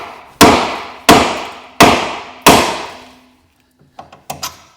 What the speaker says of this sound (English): So I've grabbed a hefty hammer, as you can see.